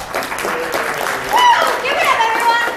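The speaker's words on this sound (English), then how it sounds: "Round of applause for everybody." An audience applauds steadily and loudly at a live summer event, with crowd cheering and voices mixed into the clapping throughout.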